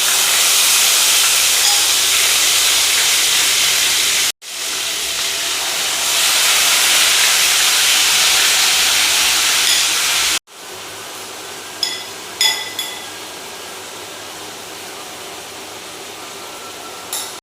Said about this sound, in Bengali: সামান্য ভাজা হয়ে গেলে ওর ভিতরে আমরা চিকেনটা যেটা ম্যারিনেট করা ছিল সেটা দিয়ে দেবো